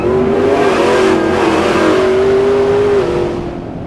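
A 1993 Chevrolet C1500 OBS pickup with an 850 hp LT4 V8 and QA1 suspension accelerates hard at three-quarter throttle, its engine note loud, close and continuous, rising steadily before easing off near the end.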